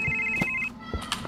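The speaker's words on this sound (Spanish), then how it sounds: "¿Están llamando por teléfono?" An in-game telephone rings in a horror game about an ex-wife trying to kidnap a baby, a steady electronic ringtone tone with short thumps around it, fairly loud and close.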